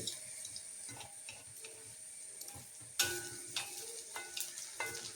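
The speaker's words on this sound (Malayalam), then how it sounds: "അപ്പം ഞാനിത് മുഴുവൻ ഒന്ന് വറുത്തൊക്കെ എടുക്കട്ടെ" Homemade kurkure snacks frying in hot oil, a soft steady sizzle broken by clinks and scrapes of stirring, with a sharper burst of crackle midway, quiet and close.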